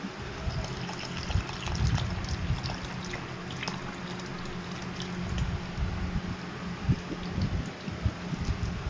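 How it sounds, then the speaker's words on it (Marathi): Water is poured into a plastic jar, a gentle uneven trickling and splashing stream with small gurgles, fairly quiet and with no talk. "आणि हेच पाणी आपल्या ह्या जारमध्ये देखील आपण ओततोय."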